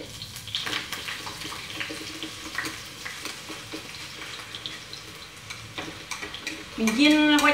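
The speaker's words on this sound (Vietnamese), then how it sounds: "bây giờ ta bắt đầu đi chiên khoai tây." Potatoes frying over low heat in a pan, a steady sizzle with scattered clinks and scraping, then a louder burst of clattering and splashing near the end.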